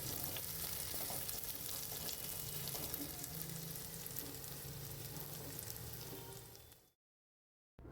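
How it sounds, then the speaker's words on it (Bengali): Dal is tempered with onion, garlic, green chilli and nigella seeds, giving a loud, close, continuous sizzle with occasional stirring scrapes. The sound cuts off abruptly near the end into silence. "পেঁয়াজ, রসুন, কাঁচা লঙ্কা, কালো জিরে সব দিয়ে ডালটা এবার ফোড়ন করে নেব।"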